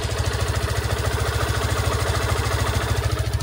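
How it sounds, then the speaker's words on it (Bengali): A Yamaha FZS-V3 motorcycle with 32,000 km on it idles with its exhaust blocked, giving a close, even low-pitched throb with rapid regular pulses and faint engine clatter. "আমি যদি এই এক্সস্টটা বন্ধ করে দিই"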